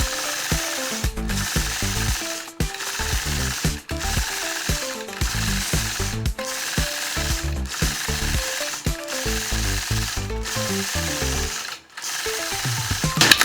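Sewing machine running at speed while free-motion quilting flower petals around a scalloped sunflower: rapid, steady mechanical needle chatter with brief stops and restarts, close and loud throughout.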